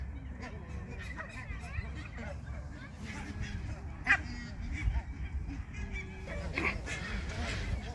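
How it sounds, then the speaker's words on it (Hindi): A large flock of ducks sunning themselves in bright weather gives off scattered honks and quacks at moderate distance, an irregular chorus over soft outdoor background noise. "बहुत बड़ी तादाद में बत्तखें आई हुई हैं।"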